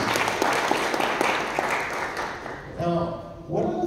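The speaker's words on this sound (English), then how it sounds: "Can I have a round of applause, please?" Audience applause in a conference-style interview, a dense broadband patter of many hands filling most of the clip before fading as speech resumes near the end.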